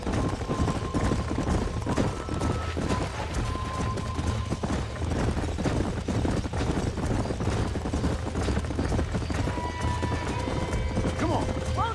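Horse hooves clip-clop steadily in Red Dead Redemption Remastered on a ranch, a continuous rhythmic trot under ambient game sound with talk over it.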